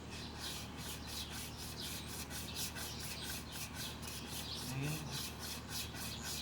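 Small survival-kit handsaw cutting through a branch, a steady, close rasping back-and-forth rhythm of roughly regular strokes throughout, with no voices.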